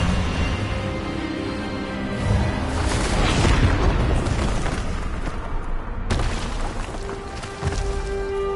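An Expelliarmus spell cast during a duel in Hogwarts Legacy on PS5 sets off a loud, sustained magical blast that surges and rumbles for several seconds, swelling in the middle before tapering into a lingering tone.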